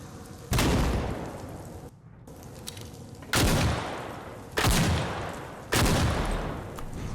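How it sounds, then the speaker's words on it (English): Gunfire in a survival horror video game: four loud, separate blasts spaced a second or more apart over a constant low background rumble, each shot trailing off slowly. "We might have something else trying to shoot at us."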